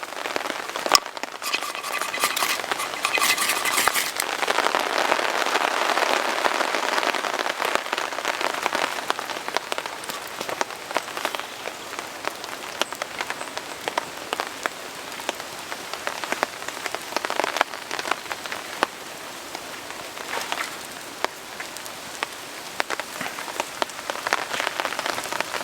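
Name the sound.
wind and rain on a tarp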